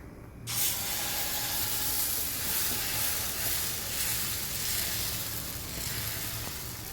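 Protein dosa batter sizzles on a hot griddle with a single spoon of oil, a steady loud hiss that starts abruptly and runs on without voices.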